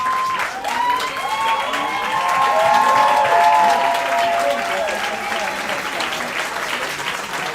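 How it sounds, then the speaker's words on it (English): A crowd applauds loudly and steadily at an AIESEC in Romania gala, with cheers and whistles rising over the clapping before it gradually tapers off. "Give them a big round of applause."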